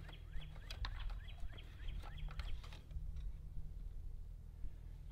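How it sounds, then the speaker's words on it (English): Faint bird calls, scattered chirps and clucking-like notes, over a low steady hum, distant and quiet, outdoors in spring. "You can hear the birds chirping."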